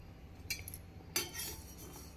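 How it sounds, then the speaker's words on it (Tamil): Coriander seeds dropped into a hot, dry kadai for mutton kulambu masala, giving a few quiet clinks and rattling patters in short bursts, with no talk. "ஒரு கடாயை காய வைத்து முதலில் நாம் மல்லியை போட வேண்டும்"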